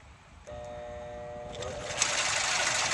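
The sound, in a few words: electric motor humming, failing to start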